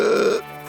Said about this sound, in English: before letting out a huge burp